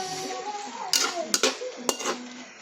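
Chayote vegetables get stirred in a pot, with a metal spoon scraping and clinking against the sides in a few distinct knocks over a soft simmering background.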